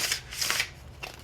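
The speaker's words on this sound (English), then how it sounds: "Last shuffle." A deck of stiff cards is shuffled in a few quick riffling bursts, close and crisp, with no talking.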